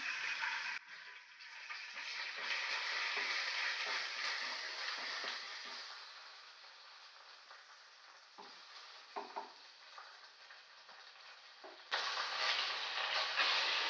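Onion, tomato, cumin seeds and ginger-garlic paste sauté in a pan for chhole, a steady loud sizzle with stirring scrapes, briefly cut off once before resuming strongly near the end.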